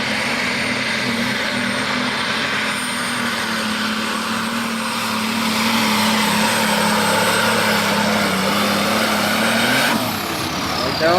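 An old forest tractor engine drones loud and steady at close range, a constant low rumble with a whining tone above it that holds throughout before a brief shift near the end.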